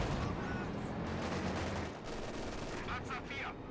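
Dense gunfire in the WWII strategy game Company of Heroes 2, German grenadiers with a light machine gun opening up on Russian troops: a continuous crackle of overlapping shots with a soft background rumble.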